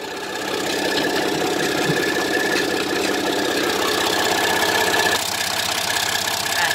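A Kubota M1-65 tractor engine idles close by with a steady, knocking diesel rhythm and strong vibration, running continuously for several seconds with no one speaking.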